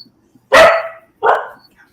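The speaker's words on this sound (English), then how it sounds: "Oh, you got a barker too." Two sharp barks from a single nearby dog, loud and separated by a short pause, with near silence around them.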